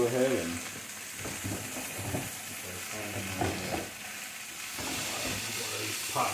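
Sausages and potatoes fry in a hot skillet, a bubbling sizzle broken by repeated scraping stirs of the pan, close and moderately loud.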